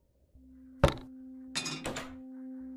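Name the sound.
gun dropped on the floor in a video game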